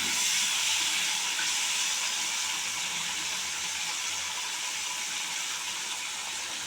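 Paneer sizzles in a pan of oil, a steady, even hiss that holds without pause and fades only slightly, with no voices over it.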